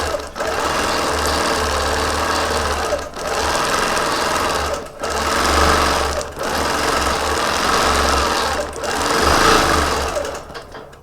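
Quilting sewing machine guided by a laser pantograph, stitching steadily with a loud, fast, continuous mechanical whir and chatter, interrupted by several brief pauses as the needle stops and restarts.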